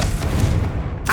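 The Confringo fire spell in Hogwarts Legacy bursts with a deep, booming explosion, a short, loud, low rumble lasting about a second before a brief brighter crackle at the end.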